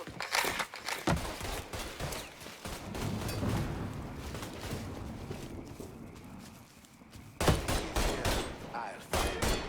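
Gunfire in Mafia III: rapid, loud bursts of shots cracking in dense clusters, fading into a rumbling lull before another sharp volley near the end, with shouting voices mixed in the chaos.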